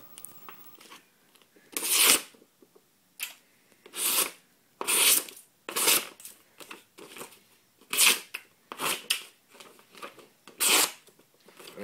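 A handmade knife slices through material in a series of about a dozen short, crisp rasping cuts, each a sharp burst of scraping, close and clear with quiet pauses between strokes.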